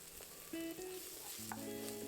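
Two onions frying in oil with salt for a vegetable quinoa sauce, a steady close sizzle with stirring clatter and a few tonal clinks of utensils against the pan.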